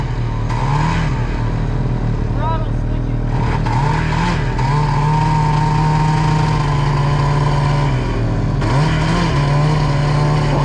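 A 1997 Arctic Cat ZR600 snowmobile engine runs steadily and loud, with its pitch rising and falling through several throttle blips over about ten seconds.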